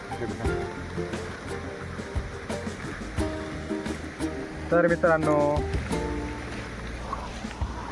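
Water rushes steadily, like a flowing river, with someone talking over it and a few other voices briefly joining in.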